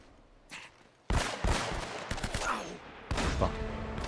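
Bursts of gunfire in Uncharted: Drake's Fortune, a quick volley of loud cracking shots followed by a pause and another burst, with no talking.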